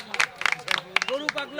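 A crowd at a cattle market in Hazratpur claps in short scattered bursts while someone speaks loudly over them, the applause brief and uneven.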